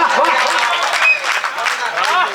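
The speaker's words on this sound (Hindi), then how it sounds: "एक बार पूरा सदन दोनों हाथ ऊपर करके जोरदार ताली" An audience at a Hindi poetry recital bursts into loud clapping, dense and close, with cheering voices and shouts mixed in throughout.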